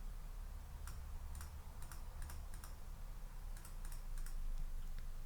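Computer keyboard keys pressed in a sparse, irregular sequence of crisp close clicks, some in quick pairs, over a steady low room hum with no talk.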